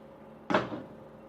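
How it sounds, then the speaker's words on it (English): The lid of a steamer pot holding steamed caramel custard lifts off with a single short clunk and scrape, close and fairly loud against a quiet room. "Now I'm going to open the lid."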